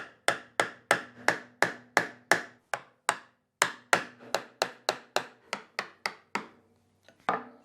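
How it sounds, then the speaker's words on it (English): Chisel strikes cut into the wood of a guitar body to widen a hole, a steady series of sharp, close, evenly spaced knocks with a short pause midway before the rhythm resumes. "I'm going to chisel out some of this wood just to make this hole a little bit bigger"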